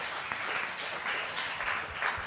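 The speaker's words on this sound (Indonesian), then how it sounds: "Berikan tepuk tangan buat Tuhan." Applause from a church congregation during a sermon, a steady wash of many hands clapping at moderate distance, fairly soft and continuous without talk.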